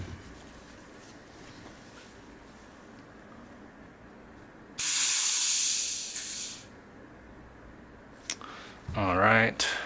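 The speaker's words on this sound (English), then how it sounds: "I'm gonna start by letting all the air out." Pressurized air hisses sharply out of a Fox Float X Performance Elite mountain bike shock's air valve, a loud burst of about two seconds after quiet room tone, followed by a brief handling clatter.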